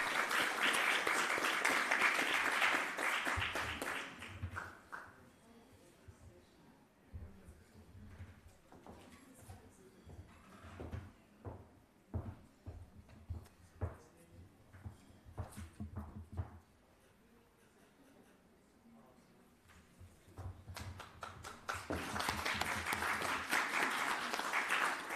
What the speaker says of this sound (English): we just want to have another round of applause for 2 excellent presentations